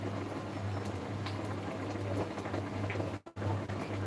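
Boiled taro root frying in a pan, a steady continuous sizzle with a low constant hum underneath and a brief dropout near the end, no voices.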